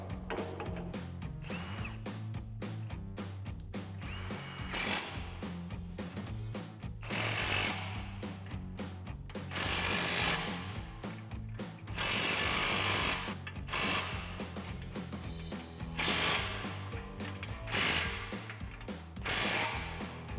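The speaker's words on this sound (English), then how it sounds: "And tighten them all down using our 22mm socket." A ratchet with a 22mm socket tightens suspension bolts while leveling a 2019-2023 Chevrolet Silverado 1500, giving loud bursts of rapid metallic clicking that recur across the clip, with brief pauses and no talk.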